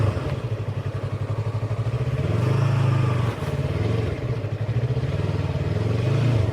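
A motorcycle ridden along a road approaching a railway crossing, its engine droning steadily and close with a rhythmic pulse and a brief rise in revs midway, no voices.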